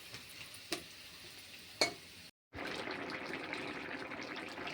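Fish frying in a pan with onions and vegetables for fish curry: two sharp utensil clanks over a low sizzle, a brief silent break, then a steadier, louder frying hiss.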